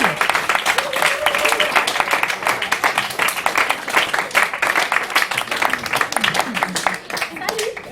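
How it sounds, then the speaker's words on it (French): Bar audience applauding a performer at a poetry slam night in Montreal, loud, sustained and close-up clapping with crowd voices mixed in, fading slightly near the end. "une bonne main d'applaudissements pour Catherine."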